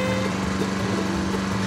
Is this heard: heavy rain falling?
no